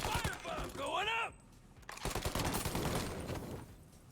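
Gunfire crackles in Mafia: Definitive Edition as bursts of sharp shots pop in quick succession. It is faint and mixed with shouting voices and game sounds.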